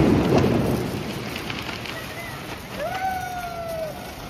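A Diwali fountain firework (paus) sprays sparks with a steady, loud hiss. It bursts strongest at the start, then keeps up a rough crackling rush, and a brief whistling tone rises near the end.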